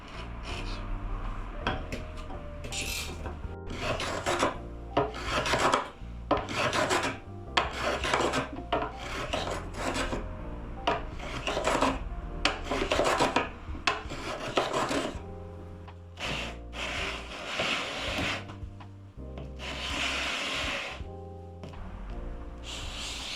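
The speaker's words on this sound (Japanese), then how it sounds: "飛び出ている部分をのみカンナ、紙やすりを使って削っていきます。" Sandpaper and a plane rasp against the wood of a Teisco BS-101 bass guitar during restoration, leveling protruding parts: repeated rhythmic scraping strokes, close and fairly loud, with brief pauses between passes.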